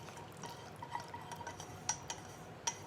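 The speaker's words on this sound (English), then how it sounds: "And then you just want to pour your sauce over that." Sauce is poured over chopped onions and green peppers in a bowl, giving faint, close liquid splatters and a few soft drips.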